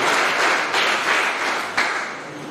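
Audience applause at a school award ceremony honouring a teacher, a steady wash of many hands clapping close by for the whole stretch, with brief surges partway through and no talk over it.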